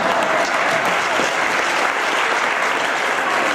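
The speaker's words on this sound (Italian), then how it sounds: "Pedron Martin della Rotagliana, un bel applauso anche a Martin." Audience applause at a prize ceremony for the Memorial Sartori final, a dense, steady clapping from a crowd that holds evenly for a few seconds.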